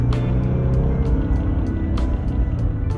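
A manual car's engine revved while driving, giving a loud, steady low rumble with a little grunt as the revs rise, accompanied by faint intermittent clicks.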